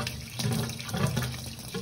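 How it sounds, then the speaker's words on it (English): Tap water running steadily into a bucket during a surface-mounted bar shower thermostatic valve installation, a continuous close rushing splash that holds even through the whole short stretch with no talk. "We have a bucket just to switch the water on,"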